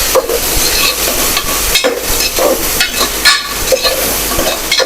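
Onions and potatoes frying in a pan are stirred, with a steady close sizzle and repeated scraping strokes throughout; no one speaks.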